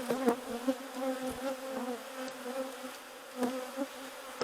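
Honeybees buzz during a hive inspection, a close, steady hum with shifting pitch as individual bees pass near, with a few brief louder swells and no talking.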